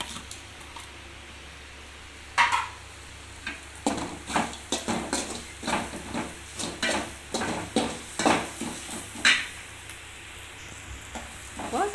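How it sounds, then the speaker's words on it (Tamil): Curry leaves and dried red chillies sauté in oil in a pan with a steady sizzle, while a spoon stirs and scrapes in irregular bursts close by, and no one speaks. "இப்போ நல்லா வதங்கட்டும் இப்போ இந்த க கருவேப்பிலையும் பரமிளகாயும் போட்டுக்கலாம்"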